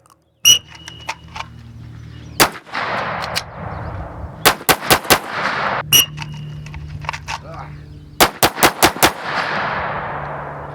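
Pistol shots in a shooting drill ring out sharply in two quick strings of about five rounds each, loud and close, with a long echoing decay after each volley and faint movement between strings.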